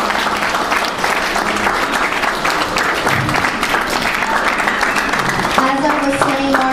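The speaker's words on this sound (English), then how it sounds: "let's give a round of applause for Alyssa Marie, the birthday celebrant" Loud, sustained applause from guests at a birthday rose ceremony, steady clapping throughout with voices and music in the background, and a voice speaking over it.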